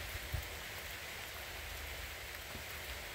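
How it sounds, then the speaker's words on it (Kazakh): Light rain drizzles steadily outdoors in a windy evening, making a soft, even hiss with an occasional faint drop. It is quiet and continuous throughout, with no voices. "Жаңбыр ақырындап сіркіреп жатыр."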